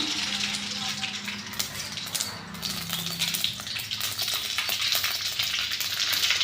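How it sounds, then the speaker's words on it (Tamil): Mustard seeds spluttering in hot oil for a Tamil cowpea and bitter gourd kara kuzhambu: a steady, close frying hiss with scattered crackles, with a faint low hum underneath throughout. "எண்ணெய் பார்த்திங்கன்னா நல்லா காஞ்சிச்சுப்பா கடுகு போட்டுக்கலாம்"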